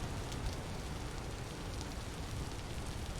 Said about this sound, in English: It's just gonna rain all the time.